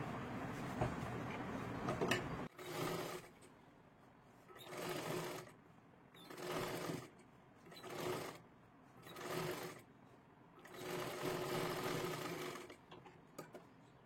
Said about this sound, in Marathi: आता ह्याच्यावरती आपल्याला एक डबल शिलाई मारायची आहे